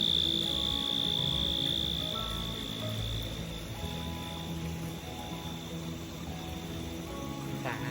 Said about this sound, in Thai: เสียงจิ้งหรีดดังสุด